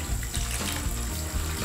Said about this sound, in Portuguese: agora que o colocamos do lado de fora, vamos encher com água